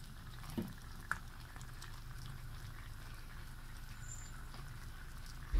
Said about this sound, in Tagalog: kumulo na yung ating niloloto